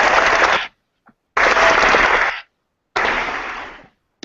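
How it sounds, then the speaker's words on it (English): Studio audience applause on a morning fan-chat show, three loud bursts of dense clapping separated by short silences, each lasting about a second. "Applause, applause, applause."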